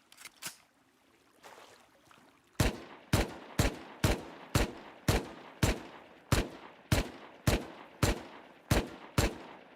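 Automated turrets in the survival game Rust fire a long series of sharp, loud gunshots, a few early bursts followed by a steady, evenly spaced volley of roughly a dozen shots, close and alone with no talk.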